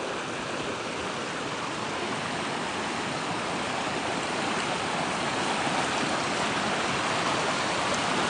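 A river flows steadily on a morning nature walk, a constant broadband rush of water that stays even and close throughout, with no voices.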